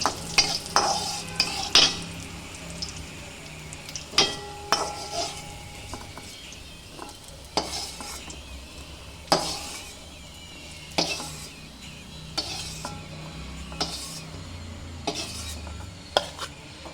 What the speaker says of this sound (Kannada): ದ್ರಾಕ್ಷಿನ ಹೀಗೆ ಫ್ರೈ ಮಾಡಿಕೊಂಡು ತಗೊಂಡೋಣ ಒಂದಕ್ಕೆ.